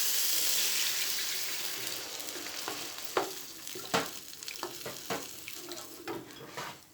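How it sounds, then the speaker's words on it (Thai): Pork belly stir-frying in a pan: a steady loud sizzle fades over a few seconds, then a spatula scrapes and clinks against the pan in an uneven rhythm, close by and without talk. "เดี๋ยวคุณย่าผัดไปเรื่อยๆก่อนนะคะ"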